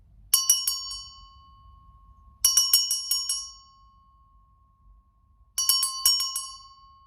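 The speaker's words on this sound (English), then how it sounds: "I am going to give you a little sound bath with my sacral chakra bell" A sacral chakra bell rung during a sound bath, struck three times at unhurried intervals, each strike bright and shimmering with a long, clear ringing tail that fades before the next, heard alone against a quiet room.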